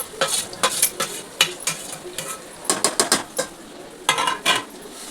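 Chicken coated in salt, masala and ginger-garlic paste is tossed and stirred into a pan of softened onions, giving repeated scraping and clattering strokes over a light sizzle, fairly close and without talk.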